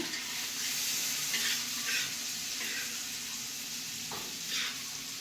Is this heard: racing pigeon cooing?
no